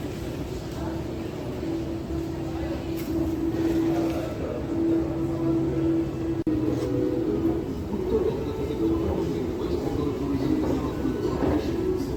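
A Kolkata Metro Green Line train between Esplanade and Howrah hums and rumbles steadily in an enclosed space, with a sustained tonal whine and a few faint voices in the background.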